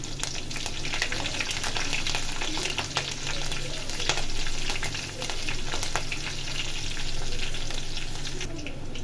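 Green chillies fry in hot oil with tempering spices, a steady close sizzle with scattered crackles and pops that continues without pause.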